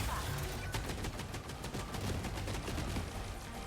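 Rapid cannon fire from a mech battle in the video game 13 Sentinels: Aegis Rim, a dense, continuous barrage of loud overlapping blasts filling the whole stretch with no pauses.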